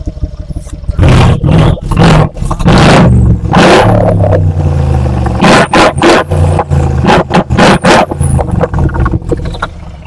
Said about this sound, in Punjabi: ਆਪਾਂ ਇਹਦੀ ਆਵਾਜ਼ ਸੁਣਾਈਏ ਐਗਜ਼ੌਸਟ ਆ ਚੀਜ਼ ਕਰਕੇ ਮਸ਼ਹੂਰ ਹੈ ਗੱਡੀ